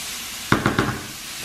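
Cauliflower rice steaming in a pan with fat, three quick bursts of sizzle over a steady hiss, close and moderately loud.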